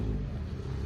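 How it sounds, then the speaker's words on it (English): A steady, loud engine rumble from a classic car revving on a slippery hill at a classic car show, low and continuous, heard briefly without any voices. "people revving out on the hill because of the slippery slope"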